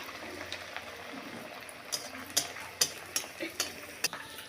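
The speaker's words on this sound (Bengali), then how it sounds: "এবার আমি লুচিটা ছেড়ে দেব।" Sago luchi, flatbread made with sago and coriander leaves, sliding into very hot oil, giving a soft steady sizzle with a cluster of sharp crackles and pops toward the end, close and fairly quiet.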